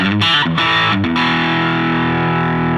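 A few fast distorted electric guitar notes through a Koch Greg Koch signature amp's lead channel with added gain lead into a long, saturated chord that rings and sustains loudly up close.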